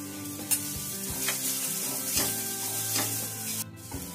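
Cabbage momo stuffing sizzles and fries in a pan with steady crackling, broken by a few sharp stirring clinks and scrapes close by, with no voices.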